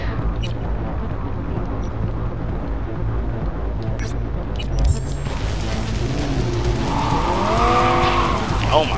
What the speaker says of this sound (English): This car is uncontrolled. I can't control it.